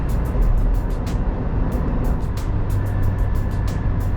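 A 2020 Suzuki Jimny engine drones steadily at 100 km/h and 3,000 RPM on an expressway at night, a low, constant, somewhat strained hum with road rumble and faint ticking clicks above it.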